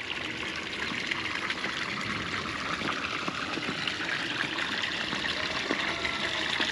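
Overflowing water pours and gushes steadily during a heavy downpour, a dense continuous rushing wash close to the microphone with no talking.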